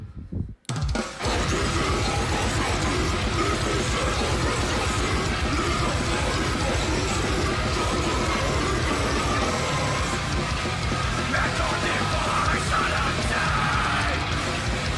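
A loud, dense, distorted track starts abruptly after a brief moment and then holds as an unbroken wall of heavy sound right to the end.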